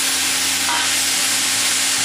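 Vegetables stir-fry in a hot cast iron pan, giving a loud continuous sizzle and hiss with a faint steady hum beneath, heard close up and without talk.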